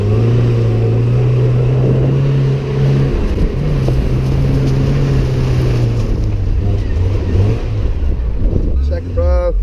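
Car revving hard while drifting across a rough paddock, engine note rising and falling over bumpy ground, with excited voices shouting over it.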